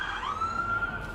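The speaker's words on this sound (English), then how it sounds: "Sirens." A single emergency siren wails briefly, its tone sliding in pitch over a low background rumble, fairly loud and close for about a second.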